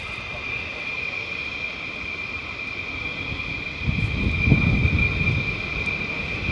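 A military jet lands at RAF Lakenheath, a steady high engine whine running throughout while a deep roaring rumble swells partway through and lingers.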